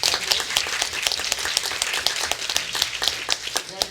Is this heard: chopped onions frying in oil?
no